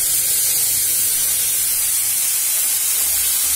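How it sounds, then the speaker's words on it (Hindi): Tomato, onion, cashew and green chili paste hits hot oil in a pan, giving a steady, close, loud sizzling hiss that holds without a break. "अब इसमें हमने जो टमाटर, प्याज और जो काजू और हरी मिर्च का जो पेस्ट लिया था वो इसमें ऐड करेंगे"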